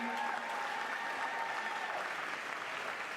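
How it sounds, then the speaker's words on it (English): Audience applause at a New York City fashion show, steady dense clapping with faint cheers and whistles throughout. "Let's give them all a big round of applause."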